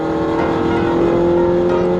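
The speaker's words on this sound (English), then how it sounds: "I'm sure everybody around me hates me for how loud my car is." A loud car revs hard close by at a rally launch party, its engine note holding a steady, droning roar for about two seconds with no one speaking.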